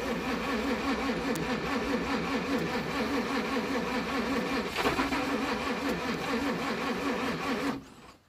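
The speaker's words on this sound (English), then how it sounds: "Okay, try and start it now." A 1937 Pontiac Silver Streak barn-find engine cranks steadily and loudly with a rhythmic churning for about eight seconds before cutting off abruptly, with no clear catch.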